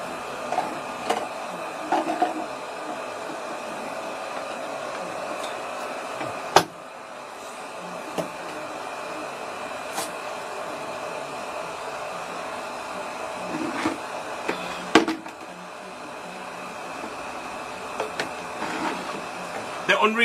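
A hair dryer blows steadily on natural hair, a continuous mid-level whir lasting the whole stretch with a few brief clicks and shifts, and faint background voices now and then.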